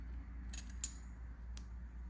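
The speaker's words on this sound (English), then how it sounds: "take my shears, and I just go ahead and, you see it? Just go ahead and cut it." Shears snip through braided hair in a few crisp, close clicks spaced irregularly over a quiet low hum, with no talk.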